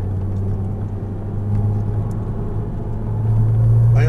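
A Porsche Cayman S accelerating on a driving course, its engine a steady, loud rumbling drone heard from inside the car that swells slightly toward the end, with no talk.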